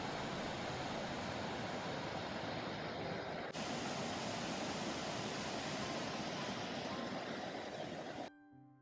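The Prestfossen waterfall on the river Bövre in Norway, tumbling over a rocky sill, a steady broadband rush of falling water heard close, cutting off abruptly near the end.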